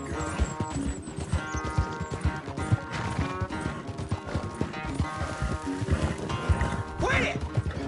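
Horse in Red Dead Redemption 2 clip-clopping at a steady gait, close and rhythmic, with occasional snorts and a whinny near the end over in-game background sound.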